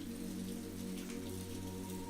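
Steady rain falls on surfaces, a soft, even patter of drops close by that never lets up, alone with no voices.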